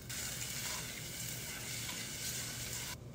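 Minced green onions sizzle in a little hot oil in a pot with mushrooms, a steady close crackling hiss that cuts off abruptly near the end.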